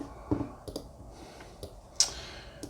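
A computer mouse clicks a few times while clips are dragged in Final Cut Pro X; the clicks are sparse, quiet and close, scattered over a soft background hush.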